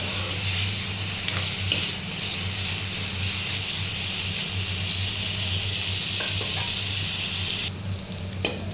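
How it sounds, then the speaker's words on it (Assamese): Cauliflower fries in a pan with a constant, even sizzle and hiss over a low background hum. "ফাইনেলি আমাৰ ফুলকবি ভাজি হৈ গৈছে"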